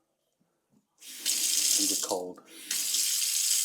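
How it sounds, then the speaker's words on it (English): Water streams steadily from the spout of a kitchen filter tap, a bright hissing rush that briefly dips and returns, with someone talking over it. "this is a filter tap that has the filtered water coming out of the left hand side"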